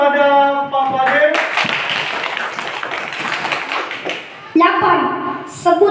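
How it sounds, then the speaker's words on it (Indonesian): Children in a classroom break into a round of clapping that lasts a few seconds, preceded and followed by nearby adult speech. "beri tepuk tangan pada Pak Fadil"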